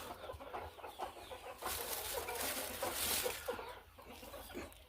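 A desi country hen clucks while being settled onto a clutch of eggs, soft repeated clucks and rustling heard faintly and close, with no voices.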